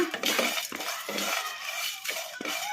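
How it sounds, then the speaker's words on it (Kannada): Metal utensil scraping and clinking against a hot kadai as masala spices are stirred into beetroot fry, a steady run of close scrapes and taps with no talk. "ಈಗ ಇವನ್ನೆಲ್ಲ ಹಾಕಿ ಫ್ರೈ ಮಾಡ್ಕೊಂಬಿಡೋಣ ಕಲಿಸ್ಕೊಂಬಿಡೋಣ"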